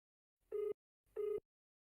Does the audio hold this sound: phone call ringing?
yes